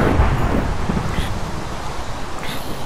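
Thunderstorm in the blocky survival game Minecraft, a loud rolling rumble of thunder under steady rain and wind noise, continuous and close throughout.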